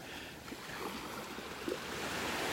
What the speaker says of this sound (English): It's still beautiful just listening to the waves and watching the birds.